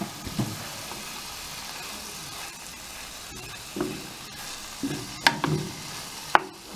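Kale wilting in a hot pan gives off a soft, steady sizzle, broken by a few sharp utensil knocks and scrapes near the end, with no voices.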